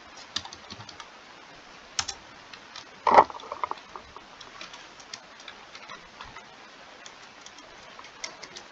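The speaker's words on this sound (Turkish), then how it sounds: "Şu anda bütün tuşları basıyorum biliyor musunuz arkadaşlar?" Computer keyboard keys are pressed in sparse, irregular taps close by, with one brief cluster of louder clacks partway through over faint background hiss.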